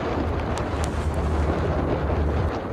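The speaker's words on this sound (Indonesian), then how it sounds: "angin di tengah laut sangatlah besar" Strong wind over the open sea buffets the microphone while crossing a long bridge, a steady loud roar with low rumble and no talking.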